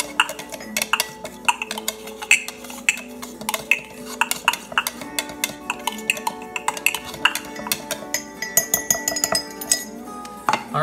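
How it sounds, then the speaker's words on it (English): Garlic cloves dropped into a glass jar, a quick irregular series of bright clinks and taps against the glass, close and clear, with a faint hum under them. "get your jar, put all the garlic inside of it"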